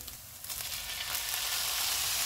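Chicken mince sizzling and frying in a pan over medium-high heat, a steady broadband hiss that builds slightly and holds loud and close throughout, with no talk.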